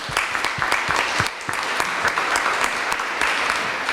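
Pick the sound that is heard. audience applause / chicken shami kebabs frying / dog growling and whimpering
audience applause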